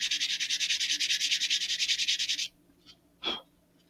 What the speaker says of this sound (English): I'm just going to use a little scrap here instead of my block, but I'm going to just sand over just very quickly and gently the seam